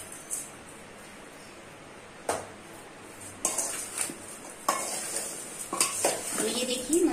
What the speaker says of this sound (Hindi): अब हम पहले सबको मिक्स कर लेंगे